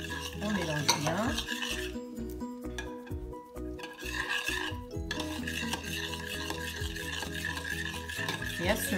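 Oil is stirred by hand into a thick modelling soap paste, giving a continuous wet, squelchy scraping with rhythmic clicks of the utensil against the bowl, close and fairly loud, with no talking.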